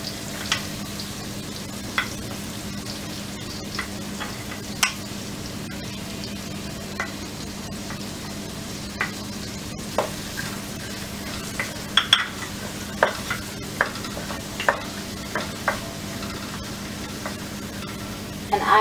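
Chopped onion sizzles in hot oil and butter for sarson da saag, a steady crackling hiss broken by occasional clicks of a spoon stirring the pan.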